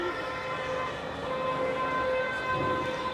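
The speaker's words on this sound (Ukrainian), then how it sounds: "Военные машины сигнализацию включают." Sirens from military vehicles wail along a city street in Kyiv, a steady, loud tone sustained throughout over a backdrop of street noise.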